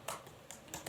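Quiet keystrokes on a computer keyboard, a few soft clicks in quick succession, close and faint with no talking.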